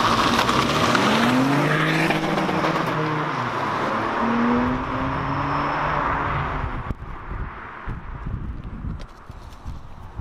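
A Ford Fiesta ST200 and a 2019 Fiesta ST drag race side by side. Engines rev hard with rising gear-by-gear pitch sweeps, passing close and loud, then fading into a rougher, quieter rumble as they pull away.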